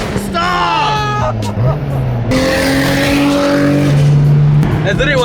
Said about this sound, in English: Two-step every day, every stoplight, every chance I get.